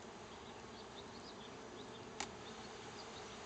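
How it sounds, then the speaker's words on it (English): Honey bees buzz softly in a steady, faint drone inside an opened hive during honey harvesting, with one brief sharp click partway through. "Now we still have bees on there."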